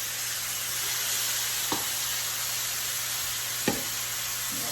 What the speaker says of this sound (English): You're going to make sure that you brown every side of your oxtail